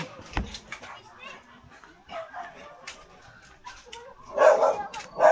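A dog lets out short barks and yips mixed with whimpering, near and intermittent, while people talk and call out around it outdoors.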